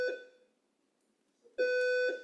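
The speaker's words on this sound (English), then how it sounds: "That does sound like a fire alarm" An electronic fire alarm in a conference room sounds a steady, piercing tone, cutting off briefly, then returning loud and sustained after a pause.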